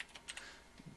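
Quick keystrokes on a computer keyboard while a name is typed in, a short irregular run of light clicks, close and fairly quiet, with no voice over them.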